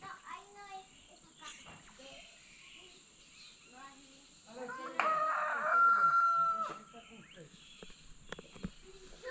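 A rooster crows loudly once, close by, between stretches of someone talking and soft bird chatter.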